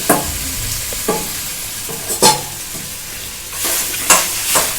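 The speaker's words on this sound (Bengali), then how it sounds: "এবার দিয়ে দিচ্ছি এই কষে রাখা ডালটা।" Cooked, spiced red lentil filling for kochori tipped into a pan with asafoetida and stirred, a few soft scraping and sizzling bursts spaced out over low frying crackle.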